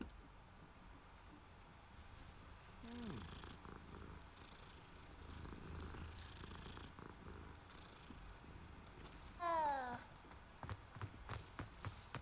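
A cat purrs in the video game Hogwarts Legacy, a faint low rumble under game ambience, with a short meow and some clip-clop sounds.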